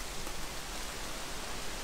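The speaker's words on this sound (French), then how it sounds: "il pleut à nouveau" Steady rain falls during a multi-day hike through the Monts du Lyonnais, a dense, even hiss with no gaps or voices.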